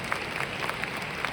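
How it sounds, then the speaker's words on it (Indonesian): An audience claps for a presenter at a course event, a dense steady patter of applause from many hands at moderate loudness. "Kita pantas beri tepuk tangan meriah untuk Miss Claudia."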